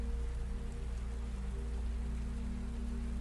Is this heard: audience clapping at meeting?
no